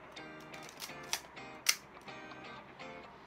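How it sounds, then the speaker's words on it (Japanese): The self-timer of a Nikon F film camera, a corroded junk unit, buzzes and ticks quietly up close, punctuated by two sharper clicks. "セルフタイマーはどうだ。"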